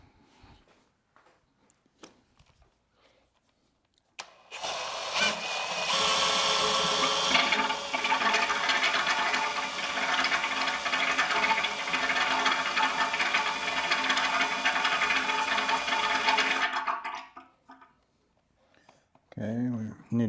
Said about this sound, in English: So that sound was the pump cavitating